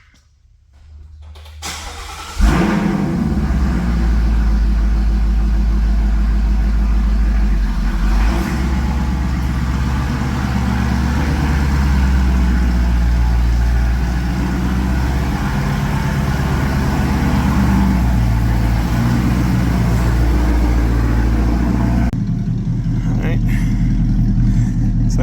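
A 2016 Ford Mustang GT S550 V8 starts up and idles, then rumbles steadily as the car is driven out of a garage, with a loud, constant engine note and a brief quiet moment near the end.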